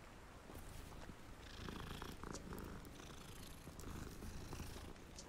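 A cat purrs steadily in Hogwarts Legacy, a continuous close rumble running the whole stretch with slight swells in loudness, alone with no talking.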